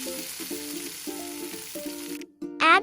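Tomatoes dropping into hot oil with curry leaves, a close, steady sizzle with a tonal hum behind it and a sharp louder hiss near the end.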